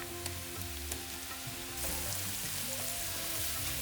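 Masala paste for Kerala-style fish pickle sizzles in a pan, a steady, moderately loud frying hiss that grows denser partway through, heard alone with no talking.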